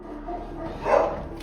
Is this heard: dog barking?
yes